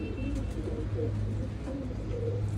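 A Teddy pigeon in Faisalabad gives soft, low, repeated coos close by, in a rolling rhythm over a steady low hum.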